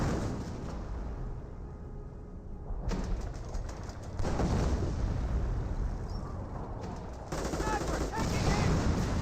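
Artillery barrage and gunfire in the World War II strategy game Company of Heroes: a continuous dense rumble of shelling with rattling shots, swelling louder in steps over several seconds.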